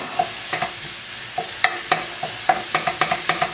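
Half a pound of ground beef in a pan over medium-high heat, being broken up: a string of short scraping and tapping strokes from the utensil over a light, steady sizzle, close and moderately loud.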